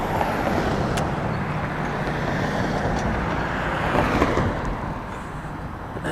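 Cars roll past on a roadway beside a cyclist stopped at the gutter's edge, a loud, continuous traffic roar with swelling whooshes as vehicles go by close at hand, and no talking.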